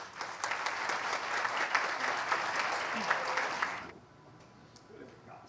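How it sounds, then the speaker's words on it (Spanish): Audience applause at a conference talk, a dense steady wash of clapping for nearly four seconds that stops abruptly, leaving a quiet room with faint stray sounds. "escuchando a Carlos Paredes, a quien pido un fuerte aplauso"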